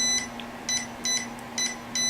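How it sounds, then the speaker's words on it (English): A multimeter set to continuity gives short, sharp electronic beeps as its probes touch, five quick chirps in about two seconds over a steady low hum. "I have my multimeter on continuity."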